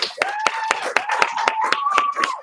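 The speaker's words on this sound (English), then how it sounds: "Everybody give him a huge round of applause." Applause for a student being honored for self-discipline, a book club, healthy eating and an orange belt: roughly ten sharp, evenly spaced claps, close and fairly loud, with a voice tone running underneath.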